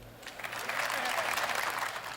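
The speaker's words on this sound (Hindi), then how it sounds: "एक बार जोरदार तालियां बजाएं सबरस मुरसानी।" An audience at a Hindi comedy poetry gathering claps loudly and continuously for the poet Sabras Mursani, the thick applause swelling slightly in the middle.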